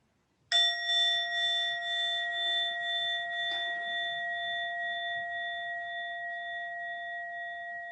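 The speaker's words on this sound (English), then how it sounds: "as the chime goes again, just listening to it again, to the very end, the vibration" A meditation chime struck once rings out with a bright, sustained metallic tone that slowly fades over several seconds, with no talking.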